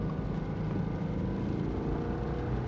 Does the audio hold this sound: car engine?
yes